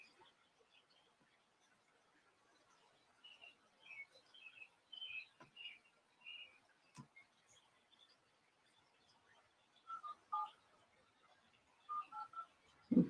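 Faint telephone keypad tones dialing a number on a business call, several short beeps in two clusters, quiet with low background noise.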